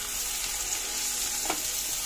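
Spiced potato curry (tunduli aloo sabji) with coriander, cumin and red chilli powder sizzling steadily in a pan while being stirred, with a soft scrape of the spoon near the middle; no talking.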